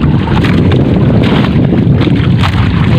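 Amihan wind blows steadily across a fishing boat at sea, a loud continuous rush of wind buffeting the microphone with low rumbling gusts, no voices.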